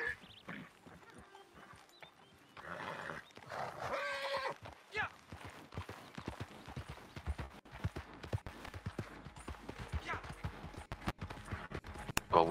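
Horse in the Red Dead Redemption 2 video game, with steady clip-clop hoofbeats running throughout and a neigh near the start, while people talk over the gameplay.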